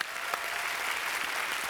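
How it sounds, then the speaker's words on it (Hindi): Studio audience applause at a televised comedy show, a steady, dense wash of clapping that fills the whole moment without a break. "रवीना के लिए पहले जोरदार तालियां,"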